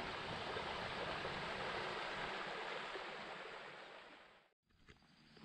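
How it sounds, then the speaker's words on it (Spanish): A mountain stream near an old mining village rushes in a steady, loud, broadband wash of flowing water, cutting out briefly near the end before resuming. "Espero estén escuchando el arroyo."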